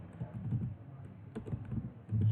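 Quick, irregular key clicks from typing code on a computer keyboard, close and moderately loud, with no talking.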